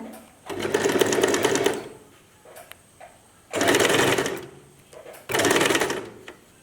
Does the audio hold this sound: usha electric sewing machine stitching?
yes